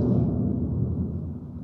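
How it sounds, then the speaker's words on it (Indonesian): Thunder rumbling low and heavy, a continuous deep roll that stays loud throughout and eases slightly toward the end, with no voices over it. "Gledek."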